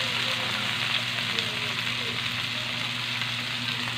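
Sliced bitter gourd (ampalaya) hits hot oil in a frying pan, setting off a loud, continuous sizzle that holds steady throughout with faint stirring scrapes.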